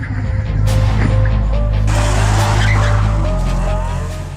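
A supercar launches hard with tires squealing and skidding, a loud engine roar building under sharp screeching rubber over about four seconds before easing off as it pulls away.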